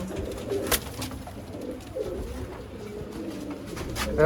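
Ferozpuri banka pigeons cooing, soft low throaty coos repeating close by under faint background noise.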